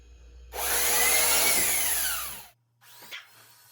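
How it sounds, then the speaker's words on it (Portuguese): An electric mixer whirs loudly and steadily for about two seconds as it works gingerbread dough, its motor pitch sliding downward, then stops and restarts briefly. Nobody speaks. "vamos tentar deixar aqui o máximo incorporado usando a batedeira"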